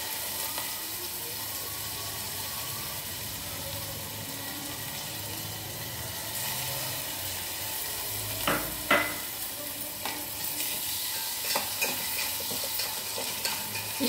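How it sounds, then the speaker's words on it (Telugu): Washed rice fries in ghee in a cooking pot with a continuous soft sizzle, and spoon stirring adds a cluster of scraping clicks and taps toward the end. "నేతిలో వేయించాలి"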